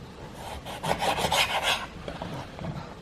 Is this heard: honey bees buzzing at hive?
no